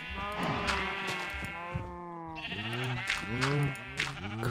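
Sheep in the Minecraft video game bleat repeatedly, several overlapping wavering cries in close succession, fairly loud and clear with no talking.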